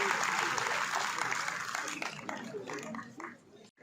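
An audience in a hall at a government function claps in a dense round of applause that fades after a few seconds, with a voice starting to speak as it dies down.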